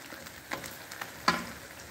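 Onions frying in a pan for a raw papaya vegetable dish, a soft steady sizzle with a few sharper crackles and spatters, close and fairly quiet, no talking.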